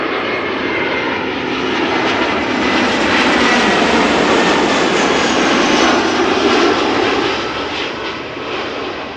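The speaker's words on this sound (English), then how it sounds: "EasyJet. Arriving from London Luton, A319." An EasyJet Airbus A319 arriving at Amsterdam Schiphol roars past with a loud, sustained jet engine rumble that swells to a peak mid-pass and eases slightly as it moves away.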